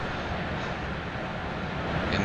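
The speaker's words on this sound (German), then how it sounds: "S-Bahn aus dem Tunnel." An S-Bahn electric multiple unit, class 425, emerging from a tunnel on the S1 line between Duisburg and Bochum in Train Sim World 2, a broad steady rumble and roar with no pauses.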